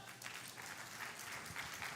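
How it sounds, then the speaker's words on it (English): An audience at the React India conference gives a round of applause to welcome a speaker back after a break. The clapping is faint and distant, a steady patter over about two seconds with no talk. "give your biggest after-break round of applause to Suman!"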